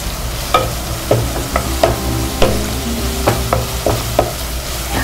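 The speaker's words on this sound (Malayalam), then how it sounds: "സവാള വഴന്ന് വരുമ്പോ നമ്മൾക്ക് കുറച്ച് വേപ്പില ആഡ് ചെയ്യാം." Onions and curry leaves sautéing in a pan while a chicken paneer potato kabab is made, with a continuous close sizzle and regular spatula taps and scrapes about every half second.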